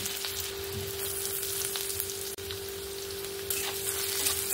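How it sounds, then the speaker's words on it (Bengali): Chopped ginger, garlic and green chilli frying in oil in a pan, a constant close sizzle with a steady electrical hum beneath and brief scraping stir sounds, no voices. "আদা রসুন আর কাঁচা লঙ্কাটাকে আমি সুন্দর করে ভাজা ভাজা করে নিয়েছি"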